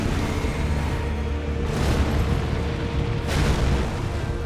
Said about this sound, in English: Okay, that one's the explosion.